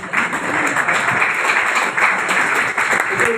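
A crowded RCM business seminar audience in India applauding, a steady full-room wash of clapping that holds evenly throughout at close range.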